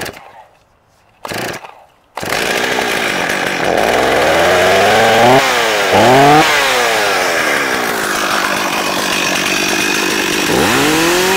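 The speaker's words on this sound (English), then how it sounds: "I'm gonna start it up for you. This is a cold start." A STIHL 026 PRO chainsaw with an 18-inch bar is cold started: two brief pull-cord rips, then the engine catches and runs loud and close, revving up and down repeatedly before settling.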